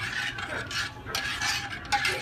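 A rice and beans mixture for yellow rice with pink beans is stirred in a pot, with soft scraping and clinking of a utensil against the pot in short, uneven strokes, quiet and close.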